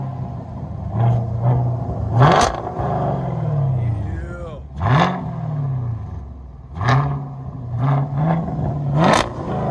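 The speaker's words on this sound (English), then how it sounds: "And now it's got special exhaust." A 2021 Chevy Camaro SS 6.2L V8 with straight-pipe dual exhaust revs repeatedly, with sharp throttle blips rising and falling in pitch, deep exhaust burbling between bursts, loud and close.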